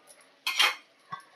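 A metal lid clatters onto a kadhai of simmering suran vegetable, one sharp bright clank that rings briefly, followed by a small softer knock, close and otherwise quiet.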